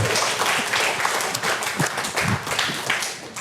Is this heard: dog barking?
no